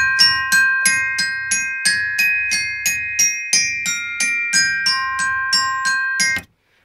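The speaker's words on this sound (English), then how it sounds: "Next up is two glockenspiels that are playing this." A pair of glockenspiels plays a melody in bright, bell-like metallic notes, struck at a steady rhythm of about two per second, close and clear with ringing overtones, no voices, ending abruptly.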